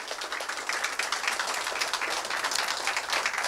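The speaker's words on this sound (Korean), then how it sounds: "여러분 큰 박수 부탁드립니다" Audience applause at a political party's presidential primary candidate announcement event, a continuous wash of clapping that sounds somewhat distant and even throughout.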